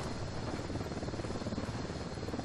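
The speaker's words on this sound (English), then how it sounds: "Ah, chopper." A helicopter in the video game Ghost Recon Wildlands drones steadily with a loud, continuous rotor wash and engine roar that holds level from start to finish.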